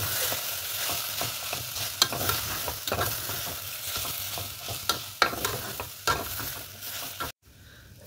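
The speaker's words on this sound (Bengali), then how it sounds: "ডালিয়া আর যে ডালটা ধুয়ে রেখেছিলাম সেইটা দিয়ে দিলাম, দিয়ে খুব ভালো করে একটু কষিয়ে নেব" Broken wheat (dalia) and washed lentils sautéing in a pan, a steady close sizzle with repeated scraping stirs of a spoon, running continuously before a brief silent gap near the end.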